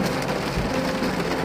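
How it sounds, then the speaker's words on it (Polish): Light rain falls steadily outdoors, a soft continuous patter that stays level and close throughout, with no voices over it. "Faktycznie, na razie jest tak deszczyk"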